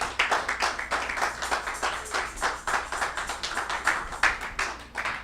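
A church congregation applauding during a French-language sermon, steady rhythmic clapping of many hands, fairly close and sustained for several seconds without speech.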